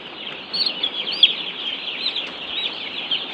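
A flock of young broiler chicks in a warm pen, their high-pitched peeps and chirps overlapping continuously at close range.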